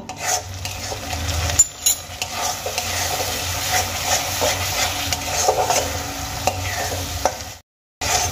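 Yogurt being sautéed with spice masala in a pan over a low gas flame for Bengali egg masala curry, with a continuous close sizzle and scraping, stirring strokes, then a brief silence near the end.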